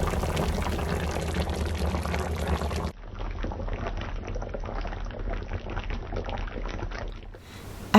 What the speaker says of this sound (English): Cover the pot with the lid to bring the water to a boil.